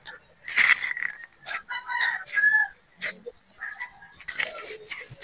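A rooster crows and clucks loudly nearby in repeated bursts, with chicken calls layered over one another.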